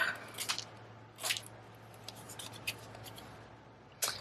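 Scissors trimming small pieces of cardstock while assembling a layered handmade card, with a few brief, quiet snips spread apart over a low steady background hum.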